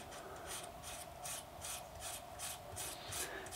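Folded wet-and-dry abrasive paper rubs back and forth over the fret ends of an electric guitar, giving a steady rasping rhythm of about two strokes per second, close and fairly quiet, with no talking.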